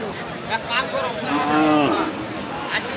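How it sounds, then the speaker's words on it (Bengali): A skinny cow gives a loud, close, drawn-out moo at a cattle market in Dhamoirhat, Naogaon, with a shorter low call before it and faint crowd murmur around. "এখানে আরেকটি হাড্ডিসার গাভী আছে।"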